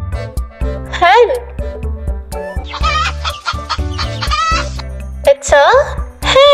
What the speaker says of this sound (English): It's a hen.